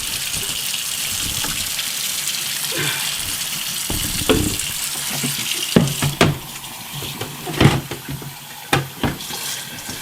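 Tap water gushes steadily into a Pinter home-brewing keg during a Weissbier brew, a close, continuous rush broken by a few louder clunks and splashes toward the end.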